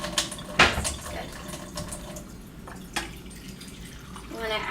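Warm water splashes and trickles into a bowl for fermenting vegetables, a sharp early splash settling into uneven running and dripping with a brief pour again near the end, close and moderately loud.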